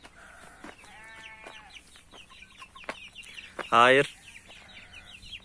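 Chickens cluck softly among young chicks on a farm, with peeping chirps scattered throughout and one louder, sharp squawk near the end; a voice speaks briefly over the birds.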